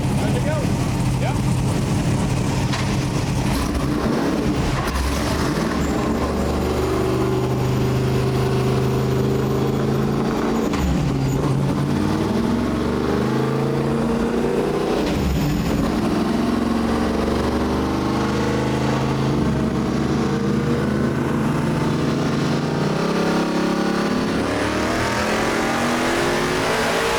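A classic Camaro road-course car with a 700+ HP engine revving from 4,000 to 7,500 RPM: a loud, continuous engine roar climbing steadily in pitch through a full pull, with faint voices beneath.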